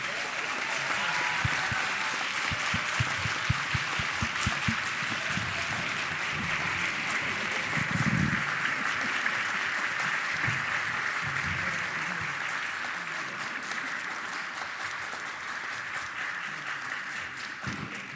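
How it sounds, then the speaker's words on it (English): A long, steady round of applause for honoured students at a school recognition ceremony, many hands clapping in a dense, even texture that swells slightly midway and then tapers a little toward the end. "if we could just give them a round of applause"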